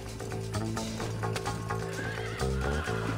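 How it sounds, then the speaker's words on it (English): Horses in the Red Dead Redemption video game neigh and whinny loudly while hooves clatter beneath, set in a busy, dense game soundscape with continuous rumbling motion. "Horses."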